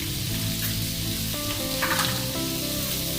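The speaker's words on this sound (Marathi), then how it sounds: "व थोडे 2 चमचे दाण्याचे तूप घालूया" Peanut ghee added to potato bhaji in a hot pan, with a steady close sizzle and light frying crackle running throughout, plus a brief stirring scrape midway.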